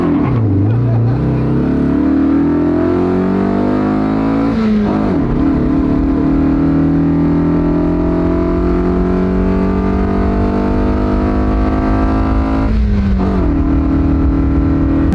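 A car engine revs and climbs in pitch through the gears, with two brief shifts breaking the rising drone; loud and close throughout.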